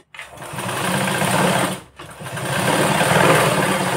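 A sewing machine stitches a fancy long blouse sleeve with a puffed shoulder. Two loud, close bursts of rapid mechanical whirring are split by a short pause, with no talking.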